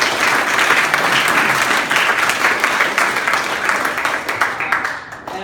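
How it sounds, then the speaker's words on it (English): A crowd applauds loudly and steadily at an Eagle Scout ceremony, dense clapping filling the whole stretch before thinning slightly at the end. "That, yes, that deserves more applause."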